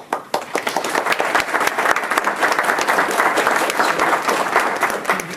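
An audience at an evening talk on intrusive thoughts and OCD bursts into loud, sustained applause, many hands clapping steadily throughout.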